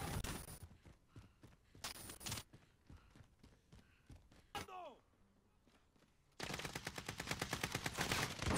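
Rapid automatic gunfire crackles in bursts in Call of Duty Warzone, with sharp single shots, a longer sustained volley near the end, and quieter footsteps and mechanical clicks between bursts.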